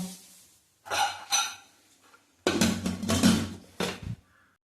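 A few short metallic clanks and scrapes close by as a pressure cooker holding green gram is closed, its lid fitted and locked, with brief quiet gaps between them.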